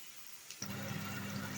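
A quiet start gives way to a steady, broad hiss of meat and vegetable cutlets frying in a pan, sizzling continuously without pause.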